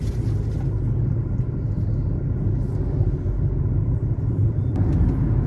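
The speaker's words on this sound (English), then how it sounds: "And we're still driving along the lake here." A car drives along a road on the south shore of Lake Baikal, a steady low engine and tyre rumble heard from inside the vehicle, continuous and fairly loud with no talk.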